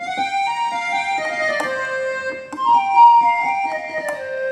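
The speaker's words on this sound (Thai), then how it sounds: "เป็นแอคคอร์เดียน" An accordion voice played on an SV800 electronic keyboard: a steady, loud run of reedy sustained notes stepping up and down in a melodic line, with no talking.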